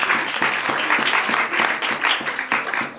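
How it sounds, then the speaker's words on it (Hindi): A church congregation in Haryana claps together in steady, loud applause that carries on without a break and with no talk over it. "दोबारा ताली बजाओ अपने दीदी के लिए"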